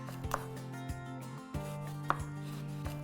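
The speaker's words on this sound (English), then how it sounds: "The eggplants next. You want these to be fairly thin, but also thick enough to hold up to the baking." A knife slices eggplant thinly on a cutting board, giving five or six sharp, evenly spaced chops up close with no talking, while a steady pitched hum runs underneath.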